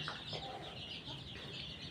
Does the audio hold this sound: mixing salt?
no